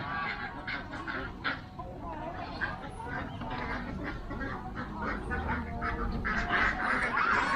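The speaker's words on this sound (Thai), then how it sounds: "ฟาร์มกลางกรุงก็จะมีน้องเป็ด น้องห่าน อยู่ทางนี้นะครับ" Ducks quack and honk repeatedly at a farm in the city, over a steady background of crowd noise and chatter, with the calls growing busier toward the end.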